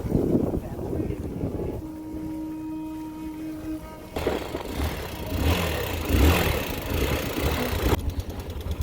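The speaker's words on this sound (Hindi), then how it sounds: "आखिरकार बाइक स्टार्ट हो चुकी है" A motorcycle engine starts and runs on the road toward Kedarnath, a low idle that rises into a rougher, louder running sound, partly masked by heavy wind noise.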